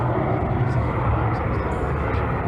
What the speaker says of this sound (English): the Harrier has is noise in abundance. It must be one of the noisiest aircraft flying.